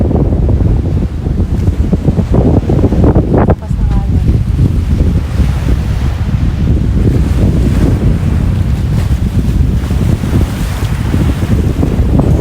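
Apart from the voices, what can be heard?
wind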